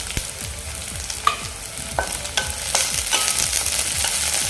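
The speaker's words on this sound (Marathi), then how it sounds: "आणि कढीपत्ताही घालून घेऊया" Curry leaves and chillies sizzle in hot oil in a pan for upma, with a steady frying crackle under repeated scraping strokes of a spoon stirring at an even rhythm.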